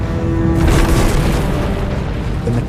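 A huge explosion from an asteroid impact, a deep loud boom that swells and then rolls on as a sustained roaring rumble.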